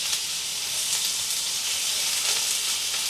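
Grouper bones fry in a hot pan, giving a steady, dense sizzle and hiss that stays even and close for the whole stretch.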